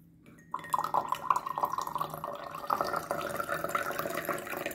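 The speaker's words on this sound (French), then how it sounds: "Et on va rajouter de l'eau." Water is poured from a tap into a glass of anise syrup to make an alcohol-free pastis, starting abruptly after a short quiet and running as a close, bubbly, gurgling fill with glassy ringing tones.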